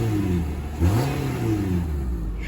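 A 2016 Nissan Rogue SV AWD engine revs up and down at close range, a steady mid-pitched drone that swells with a brief throttle blip partway through, with no voices.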